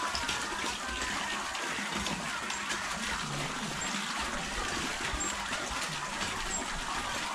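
Water gushes steadily from a newly repaired kitchen faucet, a constant, fairly quiet rushing stream that runs without break from start to finish.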